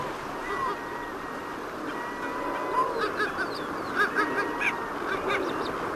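Kelp geese browsing on shoreline rocks beside kelp beds in Tierra del Fuego give repeated short honking calls that cluster toward the end, moderately close over a steady wash of wind and water.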